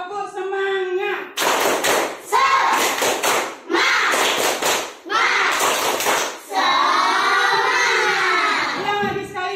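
A class of schoolchildren performs a rhythmic clapping chant, with bursts of clapping in a steady pattern alternating with loud voices chanting in unison, and a teacher's voice speaking at the start and end.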